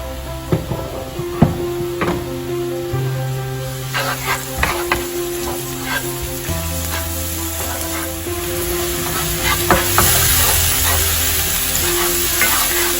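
Finely chopped mushroom and onion frying in olive oil in a pan, a steady sizzle with scattered stirring clatters and utensil knocks against the pan throughout, close up and fairly loud.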